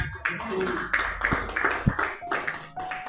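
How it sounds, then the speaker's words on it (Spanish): A church congregation applauding at a Spanish-language sermon, a dense sustained patter of clapping with a few sharper slaps and some voices mixed in. "denle un fuerte aplauso al Señor"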